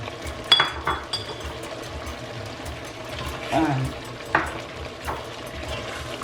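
Tomatoes with curry powder and spices cook in a pan with a soft, steady sizzle, punctuated by a few scraping stirs and utensil clicks, close and moderately loud.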